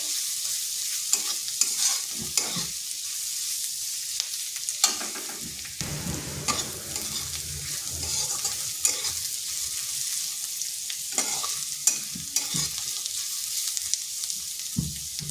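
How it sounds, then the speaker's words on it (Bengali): Garlic and grated ginger fry in hot oil, a continuous bright sizzle punctuated by frequent clinks and scrapes of a spoon stirring the pan, close and steady throughout. "রসুন আদাটাকে একটু ভেজে নিচ্ছি যাতে তার কাঁচা গন্ধটা চলে যায়"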